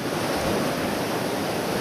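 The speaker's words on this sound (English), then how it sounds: "Watching the waves roll in." Ocean waves roll in steadily on the shore at Coffin Bay National Park near Golden Island, a continuous broad wash of surf with wind noise and no pauses.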